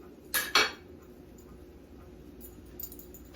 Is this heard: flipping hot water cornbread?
yes